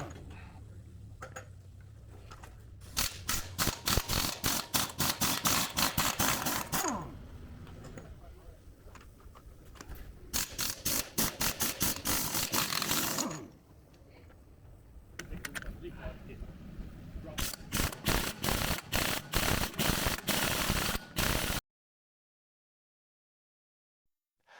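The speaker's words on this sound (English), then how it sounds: "I'm going to use the air impact gun and remove the bottom nuts off the fitted stud." An air impact gun spinning nuts off fitted studs on the steam cylinders of a two-foot gauge steam locomotive: several loud, close bursts of rapid hammering rattle, separated by brief pauses, ending in silence.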